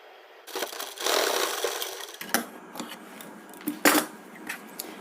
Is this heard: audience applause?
no